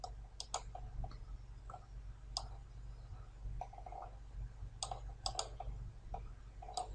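A computer mouse clicks while working in CATIA design software, scattered light clicks at irregular intervals over a steady low hum.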